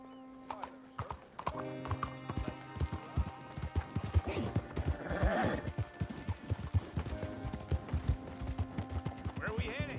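Steady clip-clop of horse hooves trotting at an even rhythm in the video game Red Dead Redemption 2, with a brief whinny and a voice speaking over it.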